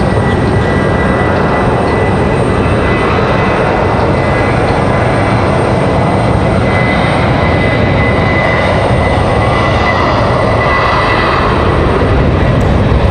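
A United Airlines A321 departs from Raleigh-Durham airport in the evening, its steady broadband engine roar continuous and loud for the whole stretch.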